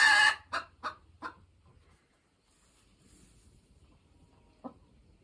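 A rooster at a poultry showmanship event gives a short burst of several loud clucks in quick succession, then quiet background and one more cluck near the end.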